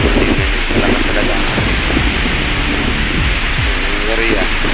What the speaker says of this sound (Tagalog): na malakas na hangin dito